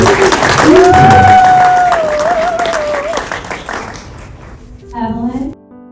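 Wedding guests clap in a downtown New Orleans park, a crowd's scattered applause rising under loud voices and a whistling tone, fading near the end before a brief separate sound, then silence.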